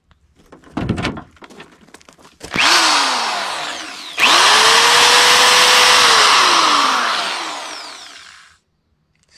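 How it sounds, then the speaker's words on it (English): An electric drill, powered by a PECRON portable power station, whirs in two bursts, spinning up loud and steady, then winding down, with a few clicks and knocks before it starts. "Seems to have plenty of power for that drill."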